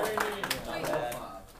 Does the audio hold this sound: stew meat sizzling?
no